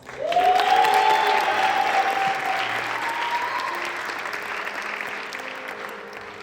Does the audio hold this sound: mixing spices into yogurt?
no